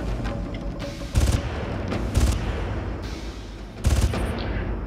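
Gunfire in the Far Cry video game aimed at a sniper: three loud, sharp bursts of shots land about a second apart over a low background of game ambience.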